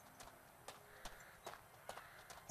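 Game horse in Two Worlds walks with quiet, evenly spaced hoof clops, about six light strikes, ending on a sharper thud.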